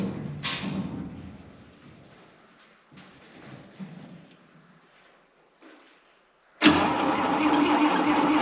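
A car on a cold morning with a weak battery gets a few muffled clunks and brief cranking attempts between quiet gaps, then suddenly fires and settles into a steady, loud idle.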